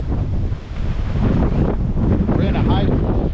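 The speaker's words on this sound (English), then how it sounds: "It's bad today because of the wind." Strong gusting wind during a snowfall under a high wind warning, buffeting the microphone with loud, continuous low rumble and roaring surges.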